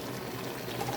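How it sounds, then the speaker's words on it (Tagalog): A home-cooked dish bubbles in a cooking pot, a steady close hiss and simmer of boiling liquid that fills the moment with no voices. "Kumukulo na yung ating niluluto."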